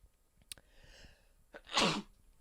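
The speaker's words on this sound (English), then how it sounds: "do I feel a sneeze coming?" A single loud, close sneeze bursts out after a couple of faint clicks and a sharp breath, with quiet room noise around it.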